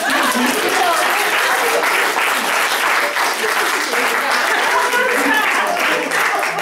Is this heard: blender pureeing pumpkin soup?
no